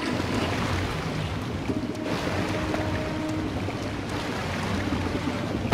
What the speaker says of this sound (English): Wait, was that a flushing sound?